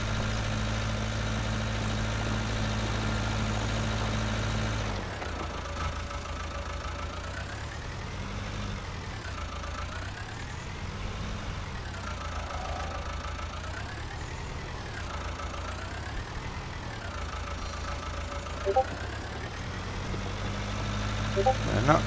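A tractor pulling a plough in Farming Simulator 19, set in Ireland, runs with a steady low engine drone. The pitch rises and falls in slow waves as the load changes, and a few faint clicks come near the end.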